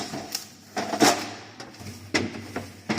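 Kitchen drawers are opened and closed in quick succession, giving a string of short wooden knocks and sliding thuds at moderate distance, with no talking.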